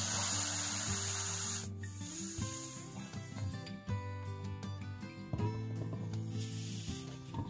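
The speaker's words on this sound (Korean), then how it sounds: "끝까지 분 다음에 바람은 충분히 빼줍니다." Air squeaking and hissing out of a 5-inch round balloon, a long stretch of wavering, tonal squeals and rubbery rasps that shift pitch in steps, close and fairly loud with no voices.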